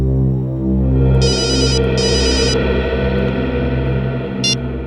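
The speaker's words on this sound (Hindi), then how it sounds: "पंकज को फोन करो" A telephone rings during a call in a CID crime drama, two electronic ring bursts and then a brief third chirp over a sustained droning musical background, loud and close.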